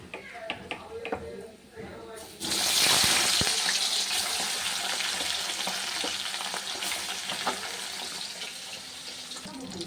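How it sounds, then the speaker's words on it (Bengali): Tangra fish slides into hot oil in a kitchen pan, setting off an abrupt loud sizzle that continues as a dense, even frying hiss, with small clatters before it starts. "এই দেখো তেল গরম হয়ে গেছে মাছটা দিয়ে দেবো"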